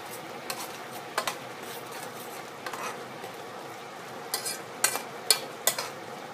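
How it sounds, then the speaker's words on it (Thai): A spoon stirs egg curry with roasted rice powder in a pot, giving soft scraping under a low background hiss, with scattered light clinks that grow more frequent toward the end. "คนค่ะ"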